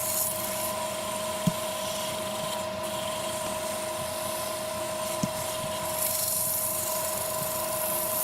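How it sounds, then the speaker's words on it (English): Steady abrasive rubbing of 120-grit sandpaper against a spinning wooden goblet on a lathe, a continuous whirring hum with a faint motor tone throughout and a couple of small clicks, no voices. "a little bit of sanding, starting off there with 120 grit"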